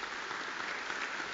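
Steady, moderately faint wash of applause from a concert audience at a university chamber orchestra performance, even and continuous throughout the short stretch.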